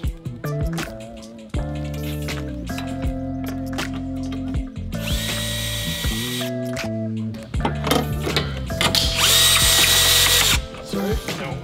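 Power ratchet removing bolts from the brace rod on a Subaru Crosstrek during a lift install, whirring in several bursts with gear-like buzzing and mechanical rattles, close and loud.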